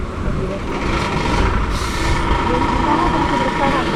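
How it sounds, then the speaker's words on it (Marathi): A bus pulls in at a roadside stop near a rural market in Sangameshwar: a low engine rumble and a hiss of air brakes over steady traffic noise, with people talking nearby. "चला बस आलेली आहे"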